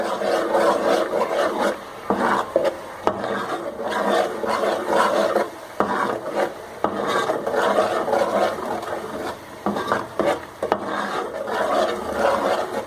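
Spices and tomatoes are roasted in a pan for mash ki daal, with a steady rasping scrape of a spoon stirring against the pan over a continuous low sizzle, close and fairly loud, with no talking.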